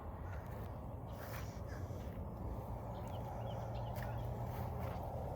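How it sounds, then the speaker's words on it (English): Crows caw intermittently outdoors on a morning garden walk, with faint distant calls over a steady hiss of background noise. "You can hear the birds."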